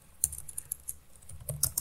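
Keys clack on a computer keyboard during a coding session, a quiet irregular patter of separate taps with a few quick clusters, heard alone without talking.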